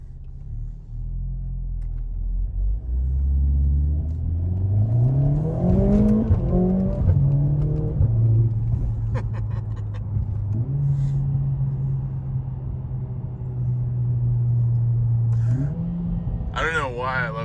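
A Mercedes-AMG four-cylinder engine revs up through manual shifts, rising pitch sweeps then settling into a steady loud drone, with a brief blip near the end; close and continuous.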